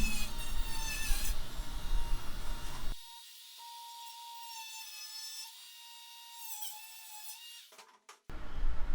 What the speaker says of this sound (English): I just cut off the corner there, taking away some of the excess plastic